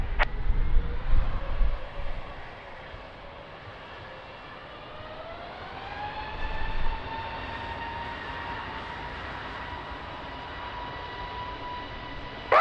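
Jet airliner taking off at Lisbon Airport on runway 20 in a gusty crosswind, a distant rising engine whine with tonal harmonics that swells and climbs in pitch, over low wind rumble.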